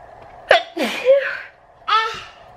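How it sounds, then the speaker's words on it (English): A person sneezing in a close, loud burst followed by further sneezy exhalations, part of a sneezing fit. "I think I'm having a sneezing attack, guys."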